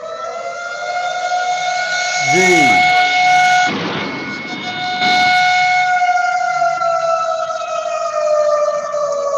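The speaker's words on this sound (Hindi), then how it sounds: "सायरन बजा दिया गया है" Loud warning siren sounding at Bisalpur dam before its gates are opened during heavy monsoon rain, a steady wailing tone held throughout with a brief voice and some noise bursts partway through.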